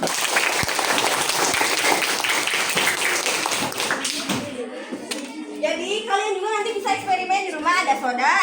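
Classroom applause greets a student volunteer called up front during a micro-teaching lesson, dense clapping for about four seconds before fading as a teacher and children begin talking.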